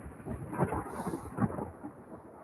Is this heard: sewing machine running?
no